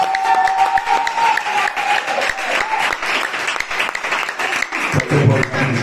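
Church congregation applauding during a sermon, loud sustained clapping with crowd cheers throughout, a voice briefly audible near the end.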